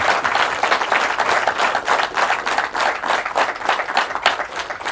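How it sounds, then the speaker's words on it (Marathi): An audience at a business seminar for mutual fund distributors claps together in sustained, dense applause that holds steady for the full five seconds. "आपल्यापैकी एकदा सगळ्यांनी सगळ्यांसाठी टाळ्या वाजवा"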